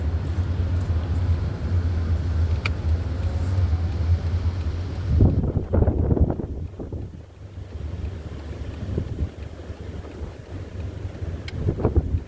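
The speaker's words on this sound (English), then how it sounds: "Oh, the wind feels good. But it's strong. It's a strong wind." Strong outdoor wind buffets the microphone with a loud, continuous low rumble and roar, which eases into gustier bursts and a lighter rush partway through; nobody speaks.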